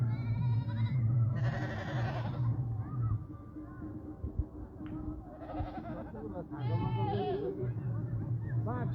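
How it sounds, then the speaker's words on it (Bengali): Goats bleat repeatedly in wavering cries, close by, amid a busy crowd with voices talking throughout. "ছাগল এগুলো"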